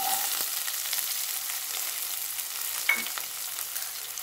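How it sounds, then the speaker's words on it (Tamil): Shallots frying in hot oil with fennel seeds for a mutton rib bone gravy, a dense continuous sizzle with a faint tap or two, steady and close. "இதில் சின்ன வெங்காயத்தை போடுறேன்."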